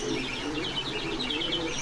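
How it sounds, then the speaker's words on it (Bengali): Pigeons at a pigeon farm in Bogura giving soft, repeated throaty coos close by, rising and falling in a steady rhythm over faint background noise. "এই যে এক জোড়া কবুতর"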